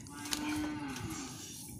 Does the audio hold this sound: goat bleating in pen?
yes